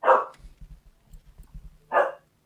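A dog barks twice from a played video, two sharp loud barks about two seconds apart, with faint low scuffling between them and no voices.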